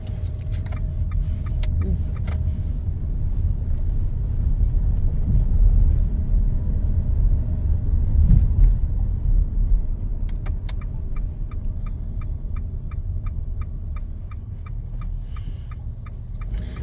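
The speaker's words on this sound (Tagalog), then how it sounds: "nagkalat ang mga sasakyan" Road traffic with many cars and motorbikes moving through a street in Thailand: a steady, loud rumble of engines and tyres runs throughout, with a few faint high clicks and chirps over the top and no one talking.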